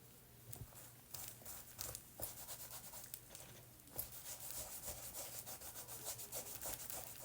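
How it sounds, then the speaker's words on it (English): Cloth wiping leather with cleaner, soft close rubbing strokes repeated in a quick back-and-forth rhythm, quiet and alone. "Start with the cleaner to wipe away dirt and grime fast and easy"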